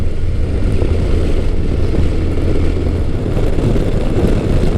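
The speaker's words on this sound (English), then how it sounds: "this bike just picks up revs very nicely" A Kawasaki Concours 1000 (GTR1000) motorcycle engine drones loudly and steadily, its low rumble rising slightly as revs build, with rushing wind noise throughout.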